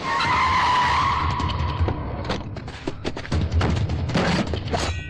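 A car tears away with screeching, skidding tires and a revving engine, followed by thumps and scuffling in a dramatic film scene, loud and close with no talking.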